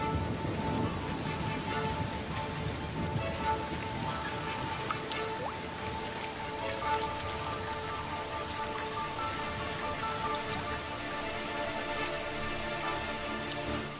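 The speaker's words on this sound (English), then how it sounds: "But when the monsoon clouds finally burst," Heavy monsoon rain pours down across the Sri Lankan highlands, a dense, steady hiss of drops drumming on surfaces that holds constant and loud throughout, with no voices.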